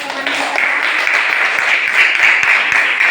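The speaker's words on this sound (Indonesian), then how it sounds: "kita beri aplaus dulu untuk teman kita" Students in a classroom clap for their classmates, a loud, dense burst of applause that builds and continues steadily throughout.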